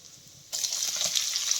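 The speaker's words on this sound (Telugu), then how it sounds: "తాలింపు గుమ్మగుమ్మలాడే వాసన వచ్చే వరకు తాలింపును బాగా వేగనిద్దాం" Red chillies, fenugreek seeds and garlic hit hot oil for tempering, starting with a sudden loud sizzle that then crackles and hisses steadily and close by.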